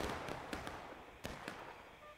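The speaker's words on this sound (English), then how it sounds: "Confederates about to fire in the distance" Distant musket volley in the War of Rights video game, a handful of sharp cracks spread over about two seconds, with two louder shots standing out against a low battlefield rumble.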